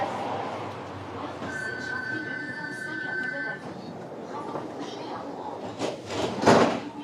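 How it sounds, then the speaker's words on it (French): Inside a Paris metro train car, a steady rolling rumble carries on while a high tone sounds for a couple of seconds, and a louder clatter or door noise comes near the end. Someone talks over it. "Je suis dans le métro."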